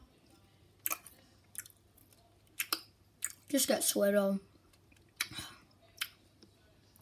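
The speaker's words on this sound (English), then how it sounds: "why do I hear chewing? I'm eating Skittles." Skittles candy being chewed close to a microphone, a few crunchy bites and then a longer wet chewing burst, with a young voice speaking briefly between them.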